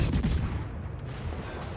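Naval guns fire at an enemy ship in World of Warships: a deep booming salvo, then a rumbling roll that fades over a couple of seconds, with no talking.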